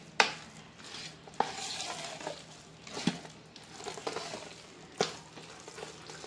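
Flour batter being mixed by hand in a bowl, soft wet stirring and squelching punctuated by several sharp knocks of the utensil against the side, close and fairly quiet.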